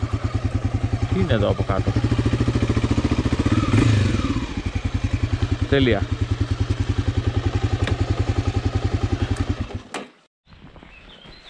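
A Honda AX-1 motorcycle idling and being moved into place on dirt ground, its loud, close, steady single-cylinder chug carrying on under a voice before the engine cuts off near the end.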